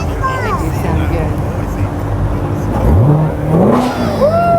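Classic car engines rev and rise in pitch amid an outdoor Memorial Day parade crowd in Piqua, with people talking nearby over the steady engine noise.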